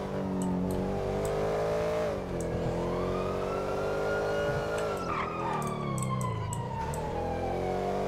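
AMG car engine and exhaust in GTA V, heard as a loud, continuous roar whose pitch climbs and falls through several revs, with a siren-like wail layered over it.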